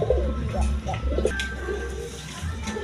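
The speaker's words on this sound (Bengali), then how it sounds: "এখানে এক পেয়ার কবুতর আছে" A pair of pigeons at a pigeon seller's place coo in low, repeated pulses close by, with a steady low hum running underneath throughout.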